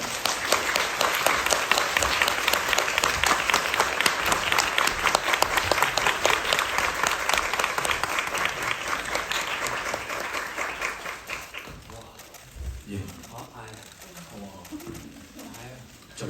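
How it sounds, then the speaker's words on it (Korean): Theater audience gives sustained, loud applause at a curtain-call stage greeting after a play, dense clapping that fades out near the end into quieter scattered sounds. "박수 부탁드립니다."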